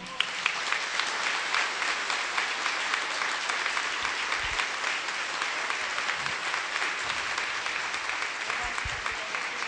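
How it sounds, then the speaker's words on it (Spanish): A church congregation claps together during a service led by a priest, sustained, even applause that rolls on for several seconds, full and close with no break. "Un aplauso al Señor."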